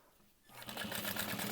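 A domestic sewing machine starts up after a brief quiet pause and stitches fabric while it is pivoted, a close, rapid, steady mechanical whirring and needle chatter that grows slightly louder.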